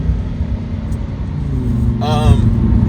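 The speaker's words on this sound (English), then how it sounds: "let's put it in sport mode, it's a little bit more aggressive" A 2023 Lamborghini Huracan Tecnica engine in sport mode gives a steady, loud low rumble that runs the whole time, with a brief rising rev near the end.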